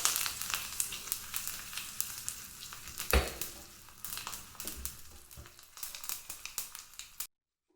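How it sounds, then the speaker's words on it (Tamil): Mustard seeds, asafoetida and curry leaves fry in hot oil for a tempering, a loud, crackling sizzle with steady popping close by that runs on before cutting off abruptly. "பெருங்காயம் பொரிஞ்சதுக்கப்புறம் கருவேப்பிலை, அவ்வளோதான்."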